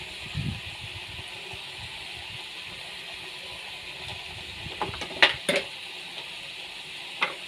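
Ginger paste, turmeric, chili powder and salt being stirred and fried in a pan for a meat curry, a soft steady sizzle with scattered scrapes and clinks of the spoon, louder knocks near the end.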